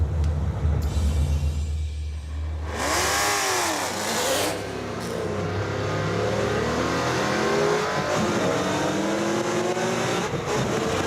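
A Mazdarati project car, a Roadkill build, launches hard off the line in a drag race, its engine revving up with a rising, sweeping note and loud continuous roar close by, with no talking.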